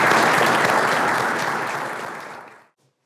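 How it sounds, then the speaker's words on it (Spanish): Class audience gives a round of applause for a student's final project, a dense burst of clapping that fades out and stops abruptly, with no talk over it. "le damos un aplauso"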